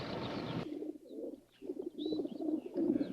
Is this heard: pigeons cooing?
yes